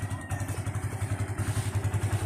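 A motorcycle engine idles close by with a steady low throb and regular rhythmic pulses, running alone throughout.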